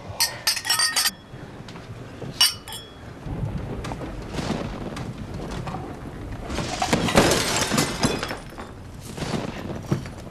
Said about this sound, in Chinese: 端起我们的进贡酒，干杯！